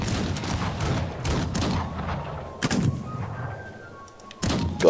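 Musket gunfire in the Rise of Liberty video game, with several sharp reports in irregular succession, some close and loud and others more distant, over a rumbling battlefield background.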